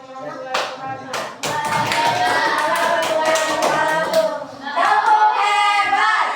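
A classroom group doing a 'tepuk hebat' cheer, several quick rhythmic bursts of hand claps close by with voices chanting along between and over the claps.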